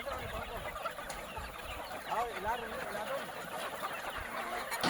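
Game farm chickens at feeding time in Masbate, a dense chorus of clucking and squawking fowl with a few crows, continuous and moderately loud with some human voices mixed in.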